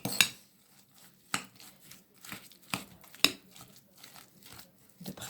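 Artichoke stuffing being mixed with an egg in a bowl, with several sharp clinks and scrapes spaced through the clip amid soft wet stirring, close and fairly quiet.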